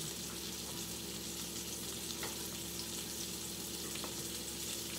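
Catfish fillet searing in a pan over high heat, giving a steady, dense sizzle and crackle that holds evenly throughout, close and moderately loud with no talking.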